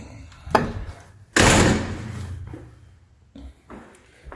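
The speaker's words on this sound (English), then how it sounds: "In fact, shut this door." A door in a room being painted is shut with a loud close and heavy thud, followed by a long rattling settle and a few lighter knocks afterward.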